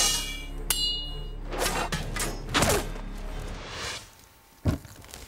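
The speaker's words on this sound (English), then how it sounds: "there's the sort of the scrape and the zing sound, as we call it, for the metal being glanced" Swords glancing off one another, metal scraping with bright zinging rings and several sharp hits over a low background rumble, followed by a final clang after a quieter moment.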